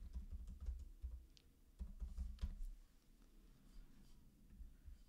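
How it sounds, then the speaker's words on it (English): Someone types a password on a computer keyboard while setting up Node-RED with EMQX, producing clusters of soft rapid key clicks in short bursts over a low background hum, fairly faint and close. "we'll type that in"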